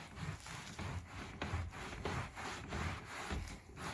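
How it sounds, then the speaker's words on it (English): Microfiber cloth wiping back and forth over a carpet stain, a soft, steady brushing rub in even repeated strokes, quiet and close with no talk. "We're just going to take the micro, and we're going to wipe back and forth."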